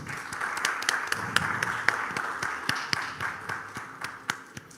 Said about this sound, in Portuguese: Uma salva de palmas para o Thiago.